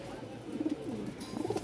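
Rajshahi Giribaj pigeons coo softly at a busy pigeon market, two short low cooing phrases rising from faint background bustle.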